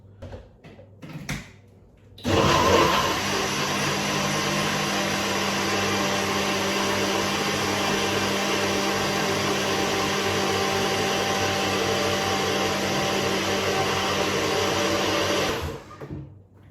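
A blender mixing a high-protein smoothie, starting with a few clicks, then a loud, steady whirring roar that runs for about thirteen seconds before cutting off abruptly.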